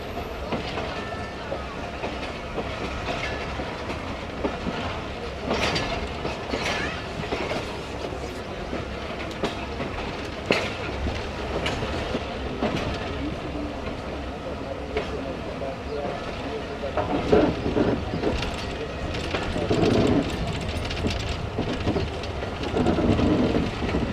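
The Musa Pak Express railcar pulls slowly away from platform 5 at Multan, with a continuous rumble and clickety-clack of wheels that builds gradually, and a voice occasionally speaking over it.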